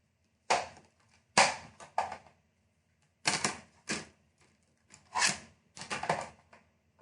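Paper being cut for a handmade card, a series of sharp, close snipping and chopping strokes in irregular clusters with quiet gaps between.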